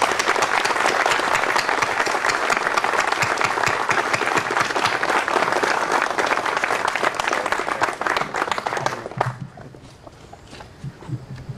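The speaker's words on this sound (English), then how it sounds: "Let's give a round of applause." Sustained applause from a gathered audience at a fraternity dedication ceremony, dense and steady clapping that tapers off near the end into a few scattered claps.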